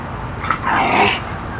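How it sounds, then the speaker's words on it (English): A dog growls low and whimpers in a short, close burst that rises into a whiny, strained tone before fading, heard alone without talk. "My dog's very strange."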